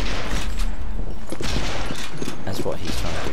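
Gunshots ring out in Sniper Elite 3 during a Ghost Town team deathmatch, with several sharp bursts of fire spread over a few seconds under continuous background game noise, while players talk throughout.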